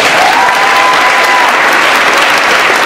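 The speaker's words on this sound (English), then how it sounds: "Let's give a round of applause to Dylan Robinson." A loud, dense wave of applause fills a middle school science fair awards ceremony, sustained, close clapping from a large audience with a faint whistle or cheer near the start.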